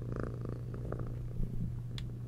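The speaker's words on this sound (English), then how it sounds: "Oh, hello, cat. Let's just, get that purring going, if you don't mind." A cat purrs steadily in a horror video game, a continuous low rumble running through the whole stretch with a faint chime near the end.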